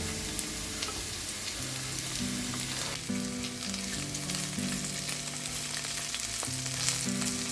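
Carrots and mixed vegetables with pepper sautéing in a pan give a steady, close sizzle alongside a stirring texture, continuous throughout with no voices.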